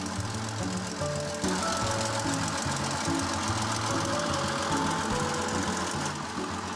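General Motors 6046 twin diesel, two combined engine blocks running together, giving a steady mid-pitched knocking drone with rhythmic low pulsing throughout, loud and close.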